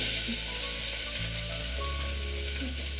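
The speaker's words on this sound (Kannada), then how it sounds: "ಅದ್ರ ಜೊತೆಗೆ ಒಂದು ನಾಲ್ಕು ಬೆಳ್ಳುಳ್ಳಿ ಸ್ವಲ್ಪ ಫ್ರೈ ಮಾಡ್ಕೊಳ್ಳೋಣ" Curry leaves, mustard seeds and garlic fry in hot oil, giving a steady close sizzle and crackle with a low hum underneath and no talking.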